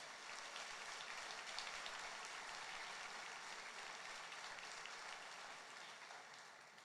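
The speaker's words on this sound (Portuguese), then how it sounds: "Quem crê disso, dá glória a Deus aí, aplauda o Senhor" Church congregation applauding after the preacher invites praise: a dense, even wash of many hands clapping at a distance, sustained for several seconds and fading slightly at the end.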